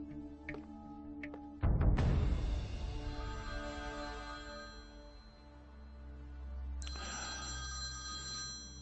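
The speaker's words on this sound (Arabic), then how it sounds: "بسرعة اتصل ببراندن واعطيني التليفون" A telephone rings in a dubbed Turkish TV drama, its electronic tone repeating in bursts with short pauses and a steady rumble underneath, clear and fairly close, with no one speaking.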